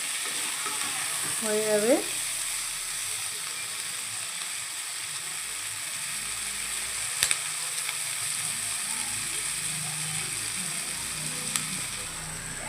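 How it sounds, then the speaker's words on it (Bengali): Potato, cauliflower, carrot, onion and green chilli sizzle steadily in a pan, a continuous bright frying hiss with a brief stir near the start and a few faint clicks, one short spoken phrase. "দেখো আলু ফুলকপি গাজর প্রায় ভালো মতো ভাজা হয়ে গেছে।"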